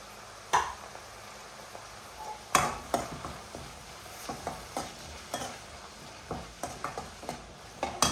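Chopped chicken sausage sautéed and stirred in a pan, with a steady quiet sizzle of frying under repeated scraping stirs of a spoon against the pan, close and fairly soft, no talking.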